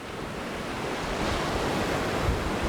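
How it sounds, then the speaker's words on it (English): Ocean surf washes in and pulls back out as the tide goes out, a steady, close, broadband rush of water with wind noise on the microphone and no voices. "Just wait for that water to come in and then go out again."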